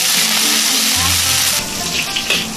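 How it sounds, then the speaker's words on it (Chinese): Sichuan peppercorns and dried chilies fry over low heat in a little hot rapeseed oil in a wok, giving a steady close sizzle that shifts to a brighter crackle partway through, with faint background noise. "用小火把花椒、海椒过过来"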